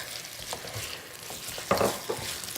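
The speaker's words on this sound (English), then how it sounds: "I'm also gonna put some onion in here. So we're gonna stir this up really good." Crab with ginger and onion is stir-fried in a restaurant wok, producing a lively sizzle with clanking, scraping stirs and one louder toss near the end, close and with no voices.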